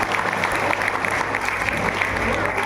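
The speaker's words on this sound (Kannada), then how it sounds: "ಒಂದು ಚಪ್ಪಾಳೆ ತಟ್ಟಿ ಜೋರಾಗಿ ಒಂದು ಅಭಿನಂದನೆ ಸಲ್ಲಿಸ್ತಾರೆ" Audience applause at a guru felicitation ceremony, a steady dense wash of clapping lasting a few seconds and mixed with a low steady hum from the hall.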